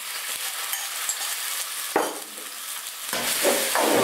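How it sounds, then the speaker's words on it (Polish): Thinly sliced pork sizzles and crackles steadily in hot peanut oil, with a few scraping stirs of the pan, close and fairly loud, no talking. "Na rozgrzany tłuszcz wrzucamy 300 g pokrojonej w cienkie plasterki wieprzowiny. Całość smażymy mieszanie."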